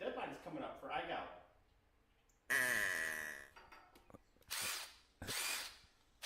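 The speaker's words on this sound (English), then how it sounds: "I don't know if the drill's really what you want to use in the PVC" A power drill boring into PVC pipe, with loud whirring bursts that start and stop several times between stretches of nearby talk.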